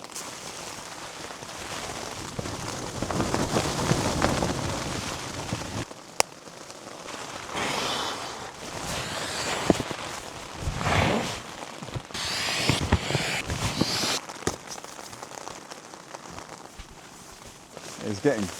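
Rain and gusting wind batter a solo wild camp in a storm, a steady rushing downpour with bursts of wind and tent flapping, close and constant, with someone talking at times.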